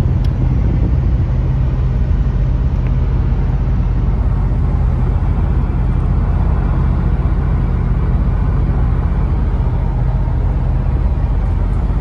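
A 1986 Oldsmobile 442 cruising smoothly at about 55 mph, heard from inside as a steady low engine and road rumble with constant wind and tire noise, unchanging and without speech.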